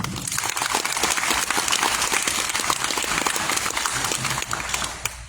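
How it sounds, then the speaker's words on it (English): An audience at a 2025 candidate forum for Liberty Hill school board and city offices gives a sustained round of applause, dense many-handed clapping that stays steady and loud before easing off at the end. "Let's give them one more round of applause."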